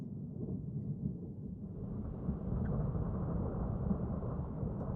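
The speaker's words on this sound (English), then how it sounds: "I'm just staring at the storm making weird noises." A thunderstorm in a modded Minecraft game gives a steady, deep rumble that swells slightly partway through and rolls on without a break. It is fairly quiet, with no talking.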